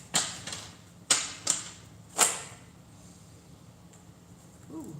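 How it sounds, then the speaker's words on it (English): Several sharp papery snaps and riffles from tarot cards being shuffled, four or five quick bursts close up, then quiet with a faint murmur at the end. "One more shuffle and we'll be good."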